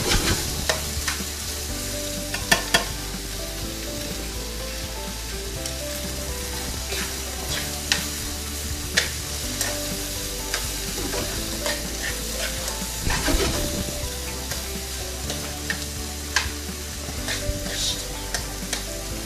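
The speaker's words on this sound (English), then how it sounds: "we're going to saute this for about maybe a minute or two" Snow peas sautéing in a hot pan for chicken lo mein, a steady close sizzle running throughout with intermittent scraping and stirring clicks from a utensil, no voices.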